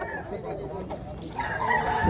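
Roosters at a chicken expo in Consolacion, Cebu, crowing and clucking amid a busy, steady crowd murmur, the calls blending into the noisy background rather than standing out alone.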